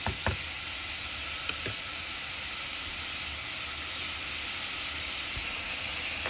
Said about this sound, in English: And then the lemongrass. Just saute it for 2 more minutes.